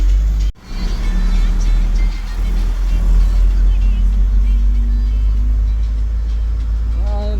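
A truck driving along the road between Mangalore and Mysore, a loud, constant low engine rumble from inside the cab with steady road noise and a brief dropout near the start.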